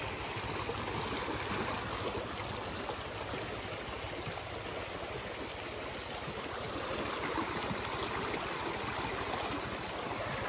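Steady broadband rush of a muddy river flowing close by, continuous and fairly loud with no voices over it.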